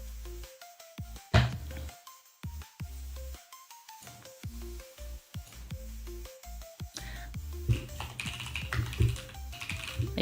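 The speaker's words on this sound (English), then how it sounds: "Can you actually hear my keyboard?" Rapid computer keyboard typing, close and fairly loud, with irregular clusters of key clicks and heavier thumps running throughout, and no voices.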